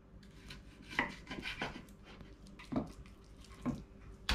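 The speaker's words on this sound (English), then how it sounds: "cut into small rib like that." Pork spare ribs are cut into small pieces on a board, with several irregular knife thuds and chops at close range among faint handling noise and no talk.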